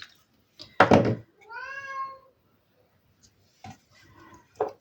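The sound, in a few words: domestic cat meowing to go outside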